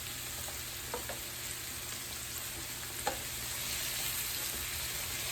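Fresh okra seasoned with salt and pepper fries in a pan with a steady, even sizzle, broken by a few faint clicks and taps, alone with no talk.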